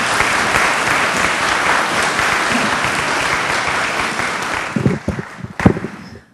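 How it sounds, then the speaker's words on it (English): A roomful of people applauds loudly and steadily, the dense clapping tapering near the end as a few louder, closer claps and thumps stand out before it stops. "let's give Amy a round of applause"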